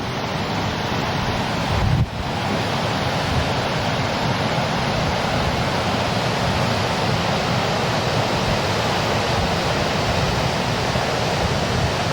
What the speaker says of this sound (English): The drama of this little lake or river cascading from one lake down to another.